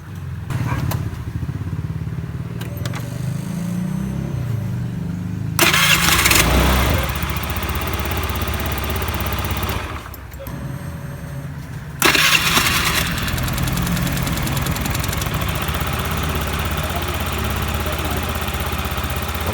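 A small engine with a newly replaced cam chain tensioner is started, idles steadily, and is restarted more than once with louder revving bursts, close and loud throughout.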